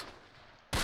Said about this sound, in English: That Panther is shooting at Cherry Coke